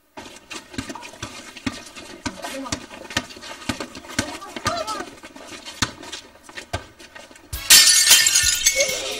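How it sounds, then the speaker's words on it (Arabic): Glass window panes shatter near the end after a stretch of scattered knocks and clatter, the breaking bursting out loud and bright, with voices talking around it. "لك انكسر بلور ابو صبحي"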